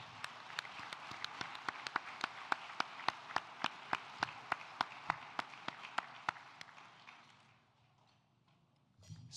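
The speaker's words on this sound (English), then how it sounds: "Let's give him a round of applause now." Applause at a charity fundraising dinner for a donor. One nearby clapper beats out sharp, evenly spaced claps over a soft wash of crowd clapping, then it fades to near silence.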